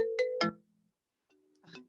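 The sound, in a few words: FaceTime call ringtone on a phone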